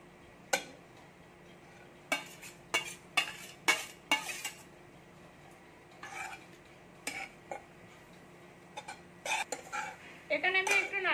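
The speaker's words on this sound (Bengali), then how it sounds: "কোড়ার মধ্যে আমি এবার নারকেল কুড়োটা দিয়ে দিচ্ছি এখানে। এবার নারকেল কুড়োটা দিয়ে আমি এটাকে নাড়তে থাকবো" A spatula scrapes and knocks against a pan while grated coconut is stirred, giving irregular metallic clinks and scrapes, sparse at first and then quicker and denser toward the end.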